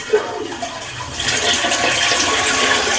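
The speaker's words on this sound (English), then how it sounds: "So if you actually flush the toilet here" A toilet flushes in a Shinjuku apartment in Tokyo, a short click followed by a loud, close rushing of water that builds after about a second and keeps pouring steadily.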